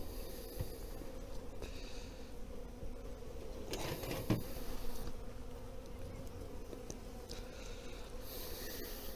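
Dense, steady buzzing of many honeybees swarming around an opened beehive during a honey check, continuous and close with slight swells in loudness and no voices.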